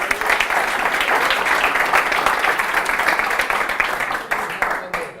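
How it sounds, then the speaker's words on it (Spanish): An audience gives a dense, steady round of applause at a public speaking session. It stays loud and continuous for about five seconds, then tapers off abruptly at the end. "Un aplauso para el despistado, por favor."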